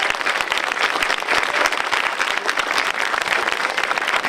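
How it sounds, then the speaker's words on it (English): Loud, close audience applause at a Witness Stones commemoration program, dense continuous clapping from a sizable crowd holding steady throughout. "So let's give a round of applause, please, to the Witness Stones Committee."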